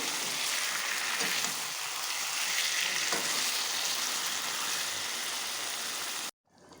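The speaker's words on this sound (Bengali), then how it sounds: "এখানে আমি চিকেনটা কষিয়ে নিচ্ছি" Chicken sizzles and fries steadily in a pan of spices for biryani, a dense, loud crackling hiss that holds evenly for about six seconds before cutting off abruptly.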